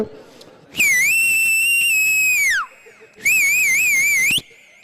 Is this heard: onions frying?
no